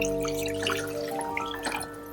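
Water being poured into a cooking pot for a clam and ginger broth, a steady splashing trickle with bright dripping tones, close and fairly quiet with no talk.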